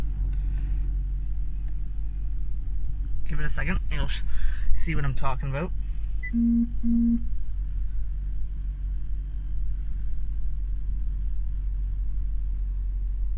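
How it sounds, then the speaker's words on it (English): A Honda car engine idles steadily with a low, constant rumble close by, while someone speaks over it for a few seconds. "So I'm just starting the car up right now"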